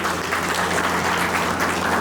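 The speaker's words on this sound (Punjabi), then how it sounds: "ਤਾੜੀ ਵੀ ਆ ਜਾਵੇ ਤੁਹਾਡੀ" Audience applause at a village development-works inauguration ceremony in Rakba, a dense, steady wash of clapping hands filling the whole moment without pause, fairly loud and with no talk over it.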